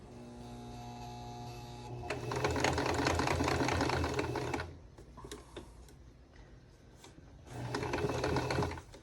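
A sewing machine runs with a steady mechanical whir and rattling, fairly close, in two louder stretches separated by a quieter pause with clicks; no talking.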